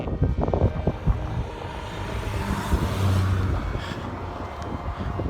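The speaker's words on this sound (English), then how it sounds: "We'll let that car go, shall we?" A car passes on a tarmac road beside a walker on the Cleveland Way, making a steady broadband rumble of tyres and engine that swells and fades, with wind buffeting the microphone throughout.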